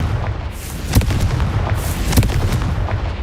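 A blasting-spell explosion from a video game, heard as two sharp booming bursts roughly a second apart, the first near 1 second and the second near 2.2 seconds, over a steady low rumble with no talking.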